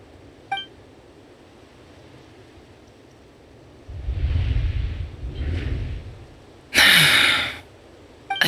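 A Genshin Impact character gasps in a short, breathy burst near the end, after a stretch of soft, low whooshing game ambience.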